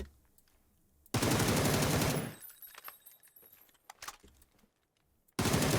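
An AUG rifle with a vertical grip in PUBG fires a loud, close, rapid automatic burst of about a second, followed by quieter clicks and clatter, then a second burst begins at the very end.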